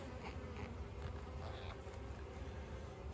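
Honey bees buzz around an open hive during an inspection, a soft, continuous swarm-like hum with individual bees droning close by now and then, quiet and steady with no talking.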